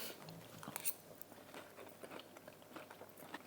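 Crunchy chewing of roast potatoes flavoured with Red Bull and paprika, with close, irregular bites and crackles repeating over a few seconds at a fairly quiet level.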